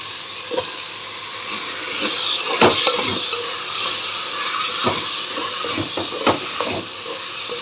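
Lentils boiling for sambar in a pot, giving off a continuous close hiss with a few soft bubbling pops scattered through it.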